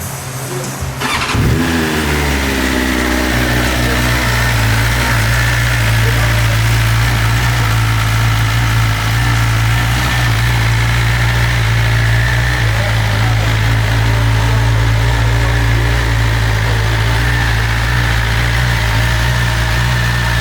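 A 2020 BMW S1000RR M motorcycle engine cranks and fires up for its first start, then settles into a loud, steady idle held close for the full length, with no talking.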